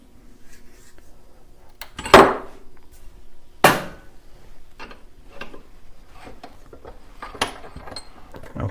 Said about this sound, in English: Let me release this pipe from the vise so we can see all of our internals.